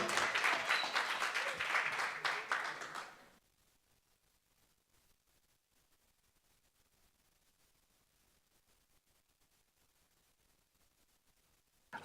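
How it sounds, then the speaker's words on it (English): A live show audience applauds, loud and dense for about three seconds before cutting off abruptly into near silence. "give them a massive round of applause"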